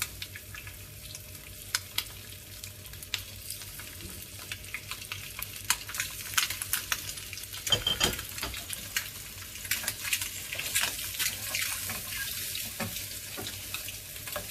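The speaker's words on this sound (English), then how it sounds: "we are going to leave them to the pan for a very quick fry" Eggs quick-fry in a pan with minimal oil for egg gravy, giving a continuous close sizzle with scattered crackles and occasional stirring scrapes that build slightly louder toward the end.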